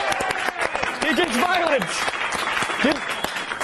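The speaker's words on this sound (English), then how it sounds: "Clap for him." A studio audience applauding a guest on a TV talk show, a dense burst of clapping throughout, with a host and guest talking over it.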